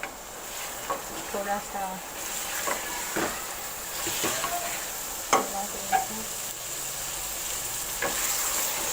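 Cubed potatoes and minced meat fry in a pan with a steady hiss and sizzle, broken by several clattering stirs of a spoon, while someone briefly speaks over it.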